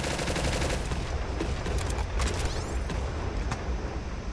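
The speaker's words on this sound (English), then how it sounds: "That was a heavy bombardment, man." Heavy bombardment in the video game Ancient Warfare 3, loud sustained gunfire and rumbling explosions layered into a dense, continuous barrage, with sharp cracks standing out near the middle and end.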